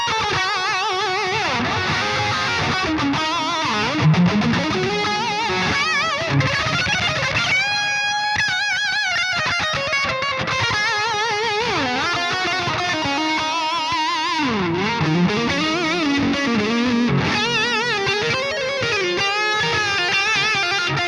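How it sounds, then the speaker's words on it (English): A Bogren Digital MLC Subzero 100 guitar amp plays distorted guitar lines through its delay effect, with echoing repeats trailing each phrase, steady and loud, no talk. "So this is what the delay sounds like."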